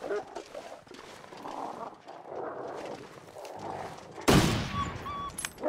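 Rifle shots fired at wolves in the survival video game The Long Dark: one sharp, loud crack near the end stands out over quieter wind and game ambience, with someone talking beforehand.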